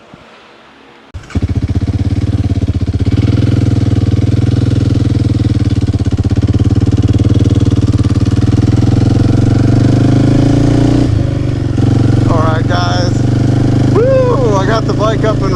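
Kawasaki KLX 230 Sherpa dirt bike fitted with a Yoshimura exhaust, starting up and settling into a steady, loud, close idle with a throaty, even rumble; a voice briefly comes in near the end.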